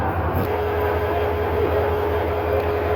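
A loud, steady rumble fills Akhaura railway station in Bangladesh, a large newly built station with trains present. The low drone holds evenly with a faint tonal whine on top and no voices.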